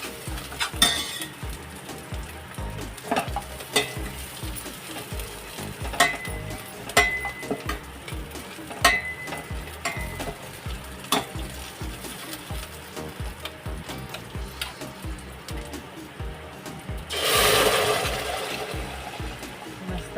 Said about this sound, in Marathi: मस्त तडका बसलेला आहे डाळीला.